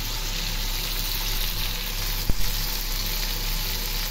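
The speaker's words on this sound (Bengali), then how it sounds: "মাংসটা একেবারে কষানো হচ্ছে, এটা একটু ভাজা ভাজা করবো কালাভুনাটা" Meat for kala bhuna frying in a pan gives a steady, loud, close sizzle that goes on throughout, with one brief knock of a utensil partway through and no talk.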